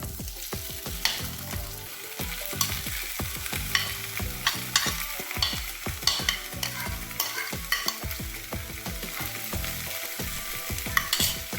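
Leafy greens stirred into a masala frying in a pan for a Bengali-style Punjabi dish, busy rhythmic scraping and clattering of a spoon against the pan over a constant sizzle, close and steady with no voices.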